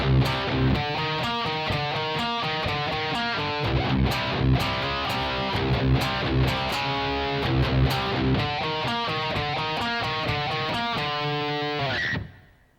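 Heavily distorted electric guitar runs through a fast four-bar phrase twice, dense rapid picked notes with steady loud drive, ending in a sustained note that stops abruptly.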